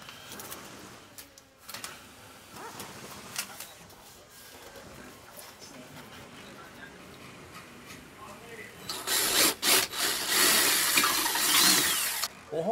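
Quiet talking at first, then a loud power drill whines in short bursts before running steadily, close by, drilling into a wall.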